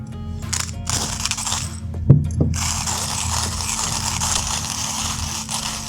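An Aethar FX Diguo manual coffee grinder with a titanium burr crunches coffee beans, a steady close grinding rasp with a few sharp cracks near the start.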